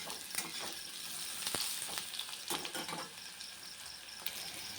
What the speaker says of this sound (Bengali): তেলটা গরম হয়ে গেছে, এবার সবজিগুলোকে ঢেলে দেব। একটু নাড়াচাড়া করে হালকা করে ভেজে নেব।